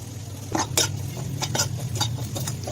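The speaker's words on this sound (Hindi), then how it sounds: "और इसको अच्छे से हम मिक्स करेंगे।" Sambar masala is stirred into a browned spice mixture in a pan with several distinct scraping strokes of a spoon over a low sizzle, close and clear with no voices.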